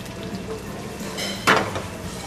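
Sliced onions sauté in a pan for a Kerala-style Onam mutton stew, giving a steady close sizzle with a short scraping stir partway through.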